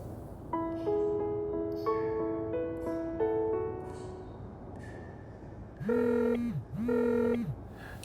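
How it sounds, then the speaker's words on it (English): A sci-fi comlink rings with a short melodic run of electronic tones, then two loud, swooping synthetic chirps repeat after a pause, with no voices. "your comlink starts ringing"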